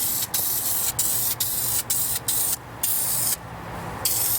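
Carpet dye sprayed from an aerosol can onto car carpet: a close series of short hissing bursts separated by brief pauses, ending with a longer sustained spray.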